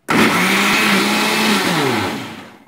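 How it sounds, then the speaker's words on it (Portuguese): Kitchen blender whirring as it mixes homemade Amarula-style cream liqueur, starting abruptly and holding a loud, steady motor whine with a slight pitch dip before winding down at the end. "Fazer um pouquinho de barulho e no liquidificador tudo junto."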